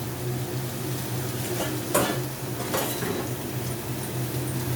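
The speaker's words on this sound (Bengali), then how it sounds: "আলু আর ঝিঙেটা একসাথেই ভাজবো।" Potato and ridge gourd frying in oil, a constant low sizzle close by with two or three metallic stirring clinks against the pan and no talking.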